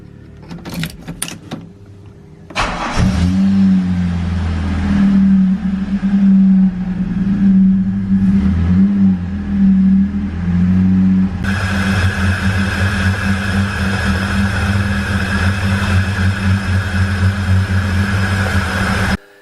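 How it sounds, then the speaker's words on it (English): A car engine idles steadily after a three-core radiator install, a low, even rumble that starts abruptly and holds for the rest of the stretch, with a brighter hiss joining partway through. "I left the car idling to bubble out any air in the system"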